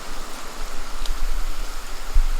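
Waterfall and stream rushing through Bankhead National Forest, a steady, dense broadband wash of water heard up close with no talk.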